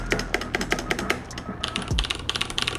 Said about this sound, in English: It sounds okay.